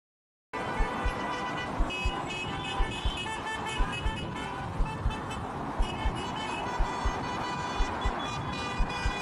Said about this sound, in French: ils se font klaxonner parce que bah, les gens sont contents